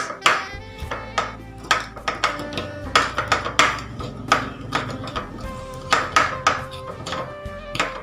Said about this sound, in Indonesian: kita siapkan ragi, lalu kita gerus atau kita haluskan sampai halus